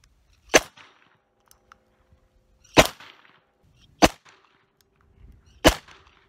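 Four sharp gunshots from a Sundance Point Blank .22 LR derringer, fired one at a time at uneven intervals over a quiet background, each a loud crack with a brief fading tail.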